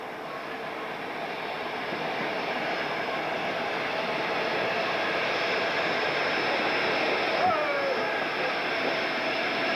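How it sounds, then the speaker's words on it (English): Steam locomotive 48062 working an express freight train near Orlando Street Bridge on the Burnley to Bolton line, a steady broad rumble of train noise held throughout at moderate distance, with a brief whistle-like squeal about two thirds through. "48062 is being checked by signals on its express freight."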